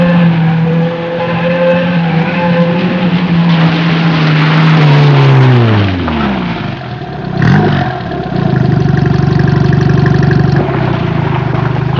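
Rally car with a damaged exhaust pipe and engine mount after leaving the road, a loud raw engine note that drops from high revs down to a rough, rumbling idle close by.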